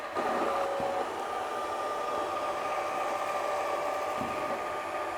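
A robotic vacuum cleaner with an extending side mop runs steadily, giving a continuous whirring hiss with a faint tonal whine throughout, close up and with no talking.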